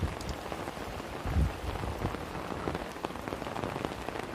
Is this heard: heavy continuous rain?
yes